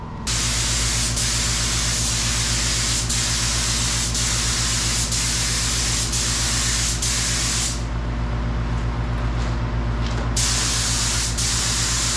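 A spray gun lays paint stripes onto a K5 Blazer with a loud, continuous close-up hiss over a steady compressor hum. The spray briefly drops out around the eight-second mark before resuming.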